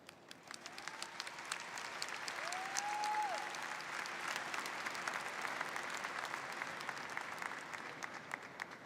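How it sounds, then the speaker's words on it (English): A commencement crowd at CT State Norwalk breaks into sustained applause, a dense, even roar of many hands clapping at a moderate distance, with a few whoops rising briefly over it. "Let's give a round of applause to all those people who believed in us"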